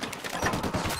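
Rapid bursts of gunfire in the video game Ghost Recon Wildlands, dense overlapping shots crackling continuously through the short moment, loud and close with no voices.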